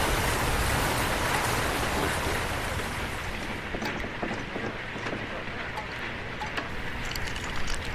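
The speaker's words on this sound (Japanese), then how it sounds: "このね、雨漏りしてる、ちょっと雨漏りしてるところっていうのがいいですね。" Rain leaking through a roof in the video game Metal Gear Solid Peace Walker, a steady dense hiss that fills the whole stretch at close range, with no pause.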